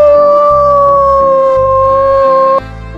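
A wolf howls in one long, steady, loud drawn-out tone that holds for most of the stretch and cuts off sharply near the end, over a faint musical background.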